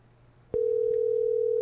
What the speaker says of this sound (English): now Grandma's phone's ringing